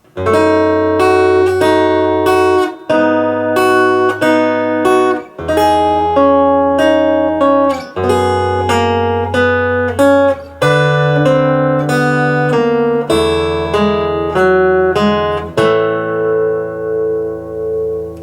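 A clean plucked acoustic guitar picks out the slow fingerstyle melody of a song note by note, each tone ringing and fading, close and clear with no talking.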